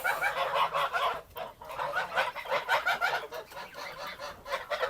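A flock of geese honking continuously on a farmstead, overlapping calls close by and fairly loud, with a brief lull near the middle.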